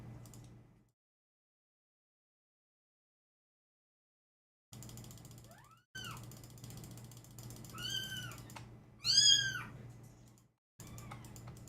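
Two adult cats meow several times, rising and falling cries that are faint and fairly close, with gaps of silence and light clicking between them.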